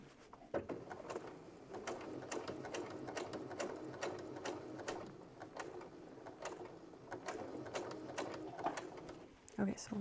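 A sewing machine runs in steady bursts of fast rapid stitching, close and continuous with brief pauses, while someone talks quietly at times.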